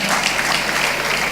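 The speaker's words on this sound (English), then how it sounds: "if you want to clap, clap." A conference audience applauds in a dense, steady wash of many hands clapping, loud and continuous from start to finish.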